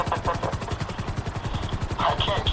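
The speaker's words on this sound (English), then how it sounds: "I should have gotten the other helicopter." A GTA Online helicopter chops steadily with rapid, loud rotor pulses and a low engine drone underneath.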